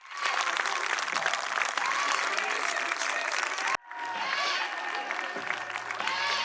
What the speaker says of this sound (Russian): Под эти аплодисменты несмолкаемые.